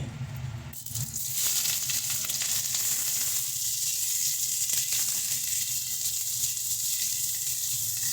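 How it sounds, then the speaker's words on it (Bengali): A loud, steady sizzle of chopped onions frying in hot oil with dried chillies and bay leaves, close up and continuous, with a brief softer moment at the start. "পেঁয়াজটাকে সুন্দর করে লাল লাল করে ভেজে নেবো আমরা"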